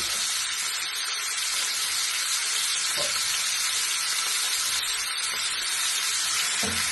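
Tomatoes fry with masala for masala kichdi, giving a loud, continuous hissing sizzle with faint scraping stir sounds at a few points and no talk.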